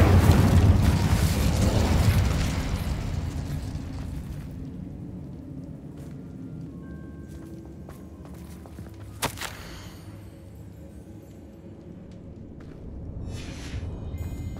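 Incendio fire spell cast in the video game Hogwarts Legacy, a loud rumbling whoosh of flame that fades over a few seconds, then a sharp burst and quieter game ambience.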